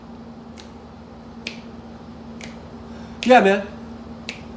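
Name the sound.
finger snapping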